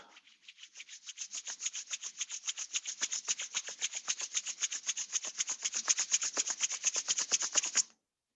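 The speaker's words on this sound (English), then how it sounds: "Gently rub your palms." Palms rubbed together in a steady, rapid back-and-forth rhythm during a gentle yoga practice, close and soft, each stroke a dry brushing swish that grows slightly louder before stopping abruptly near the end.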